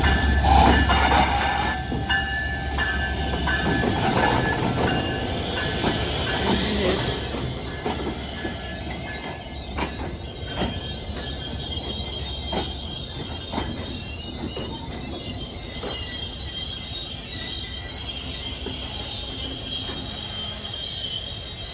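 Benapole Express, a passenger train, arriving at Jashore Railway Station: a loud rumble and clatter of railcars at first, then long metallic wheel squeals and clicks as it slows, with faint voices on the platform.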